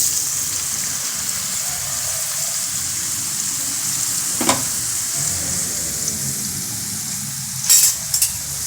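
Soybeans frying in hot oil and ghee, with a steady, close sizzle running throughout and brief scraping stirs around the middle and near the end.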